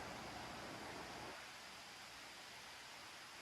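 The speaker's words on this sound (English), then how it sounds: "And you can hear the water." A steady broadband rush of flowing stream water at Elkmont, Tennessee, softening slightly partway through and continuing as a constant hiss.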